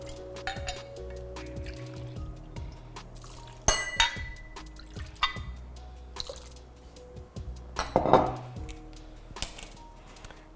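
Spoon stirring gin in a glass while a gin cocktail is made, giving light clinks and liquid swirls, with one louder glassy clink partway through and a brighter rattle near the end, close and moderately loud.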